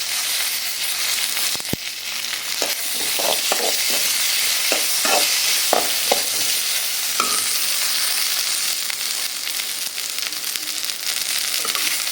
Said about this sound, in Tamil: பார்த்தீங்கன்னாக்கா இப்போ நம்ம கருவேப்பிலை ஆட் பண்ணணும்.